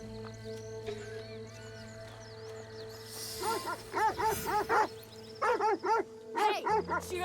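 A dog in the video game Assassin's Creed Shadows barks in a rapid run of loud, close yelps and bow-wows, several quick barks in clusters over a steady background hum.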